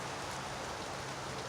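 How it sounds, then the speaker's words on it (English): Cold December rain falls steadily outdoors in Lexington, South Carolina, making an even, dense hiss of drops spread all around with no voices. "Just a bunch of cold rain."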